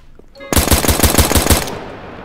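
Rapid automatic gunfire in the Roblox hood game Streetlife, a loud burst of about eight to ten evenly spaced shots lasting just over a second, close and sharp, then fading out.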